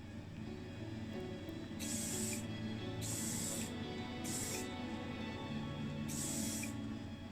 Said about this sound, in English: I'm now going to cover it in black primer.